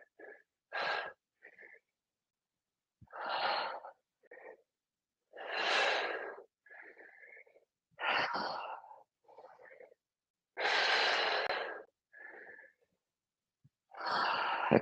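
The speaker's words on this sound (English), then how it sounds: "Don't hold your breath." Deep breaths repeat through a yoga flow for runners and athletes, alternating loud airy exhales and shorter softer inhales in an uneven rhythm, close to the microphone and otherwise quiet.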